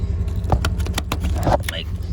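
Brief metallic jingling of keys close by, with a voice and low vehicle rumble in the background.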